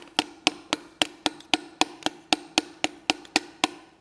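A hammer taps parts into place during an engine swap of a Nissan RB30 into a 1958 classic Ford, striking in a steady, even rhythm of about four sharp, close blows per second with no talking.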